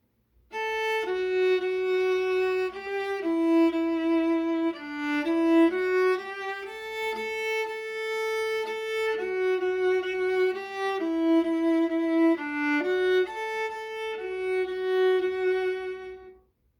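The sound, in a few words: viola playing a simple melody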